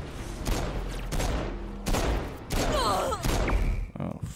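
Pistol fire from the Saints Row 4 video game comes in several sharp bursts at uneven intervals, loud and close, with short gaps between the volleys.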